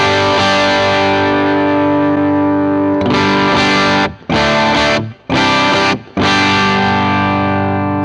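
Distorted electric guitar through a Line 6 POD Go with a cabinet impulse response, heavy sustained chords ringing loud, then a series of stabbed chords with brief gaps before a final long hold, no talk.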